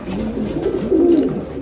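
Racing, miler, roller and fancy pigeons coo steadily inside a loft, several low rolling calls overlapping at moderate loudness with no talk.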